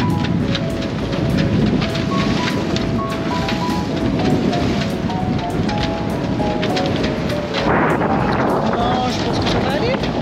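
Strong wind gusts, reaching around 29 knots, buffet a small sailboat at sea in a heavy swell, a loud continuous roar of wind and rushing water close to the microphone with voices talking underneath.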